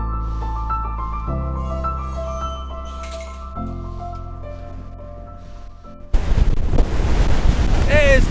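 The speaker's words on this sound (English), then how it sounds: "It's got super windy up here." Strong hilltop wind near the Old Man of Storr on the Isle of Skye breaks in suddenly, loud and buffeting against the microphone, after several seconds of quiet music.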